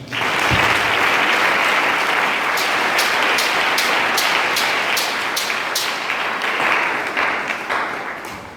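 A church congregation breaks into sustained, dense applause that fills the room at full volume, with sharp claps punctuating the steady roar throughout.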